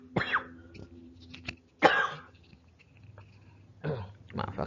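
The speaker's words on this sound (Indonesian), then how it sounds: "Maaf agak batuk-batuk sedikit" Several coughs and throat-clearing bursts from a teacher giving a Grade 4 religious studies lesson, spaced irregularly across a few seconds, close and moderately loud with quiet room noise between.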